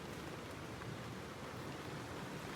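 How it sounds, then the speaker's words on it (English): Rain falls on a camping tent with its whole front open, making a steady, even hiss of dense drops that continues throughout, with no voices. "But it's raining now."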